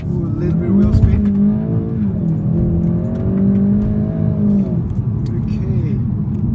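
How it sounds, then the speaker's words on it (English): A 2018 Golf GTI with 245 PS makes a launch-control start, its engine held near 3000 rpm and then pulling hard with a brief wheel spin, heard from inside the car while someone talks over it. "So there you are, launch control program active, get the revs to around 3000 revs and go. Ooh, a little bit of wheel spin."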